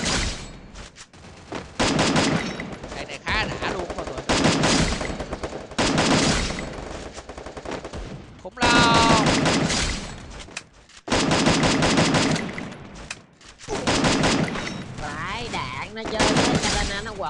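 An AK assault rifle in Free Fire fires repeated loud bursts of automatic fire, separated by short pauses, with game effects in between.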